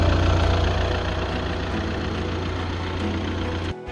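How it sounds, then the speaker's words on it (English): A healthy Audi Q3 2.0 TDI Quattro diesel engine idling with a steady low rumble and even hum, close and continuous, cutting off abruptly near the end. "the engine sounds absolutely sweet as a nut. No like horrible sounds or anything."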